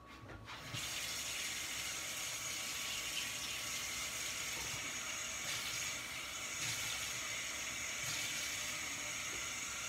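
Warm water pours steadily from a tap into a container for pickling red onions, a constant rushing stream that starts within the first second and runs loud and close to the end.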